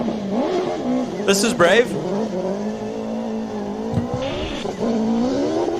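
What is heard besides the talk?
Hayabusa-powered Radical race car launching off the line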